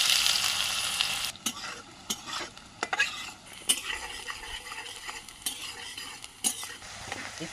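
Onions frying in a pan for a Bengali potato pakoda snack, with steady sizzling broken by repeated scrapes and clinks of a utensil stirring against the pan, close and continuous without talk.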